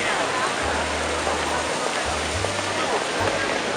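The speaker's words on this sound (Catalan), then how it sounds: "Segueix plovent." Steady rain falls in a town in the Cinque Terre, Italy, in the early evening, a dense continuous hiss filling the whole stretch, with a low hum running beneath it.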